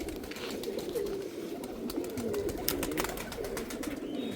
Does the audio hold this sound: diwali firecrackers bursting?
no